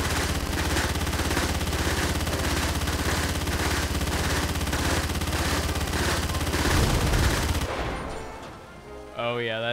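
A smart turret in a video game weapons test fires a loud, continuous rapid burst for several seconds, then stops and leaves a rumbling tail followed by a short rising electronic tone.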